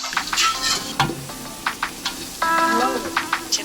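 Rice sizzles as it is sautéed in a pot for khichuri at a rainy-day picnic, with steady frying hiss and occasional stirring scrapes under voices and background tones.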